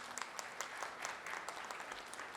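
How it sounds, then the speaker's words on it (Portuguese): Applause at a formal solemn session awarding a posthumous Tiradentes Medal, a faint, distant wash of many hands clapping with a few sharper individual claps standing out. "uma forte salva de palmas"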